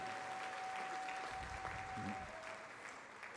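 Congregation applauding during a Sunday church service, a steady wash of clapping from a crowd that holds for several seconds at moderate level, with a faint voice underneath.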